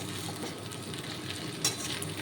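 Potato and pointed gourd pieces frying in a pan for a simple vegetarian dish, a soft continuous sizzle with faint stirring scrapes, quiet and close, no talking.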